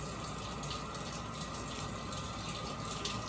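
Water runs steadily from a kitchen tap as a serrated knife is rinsed while preparing vegan sushi rolls, a constant soft gush heard close and alone.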